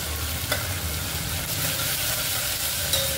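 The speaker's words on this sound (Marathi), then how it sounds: "कांदा छान भाजून घ्यायचा।" Onion frying in a pan of ghee or oil for methi khichdi, a steady loud close sizzle with faint occasional stirring clicks and no talking.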